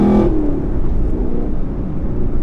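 A Chevrolet Camaro SS 1LE with manual transmission gives a quick auto rev-matching blip at the start, then settles into a steady, loud interior drone.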